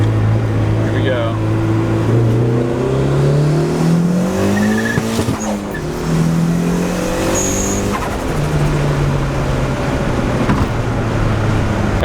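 A turbocharged Honda Civic EG hatchback engine revs and drops in pitch through rising and falling sweeps, loud and close, with tire noise and road roar underneath.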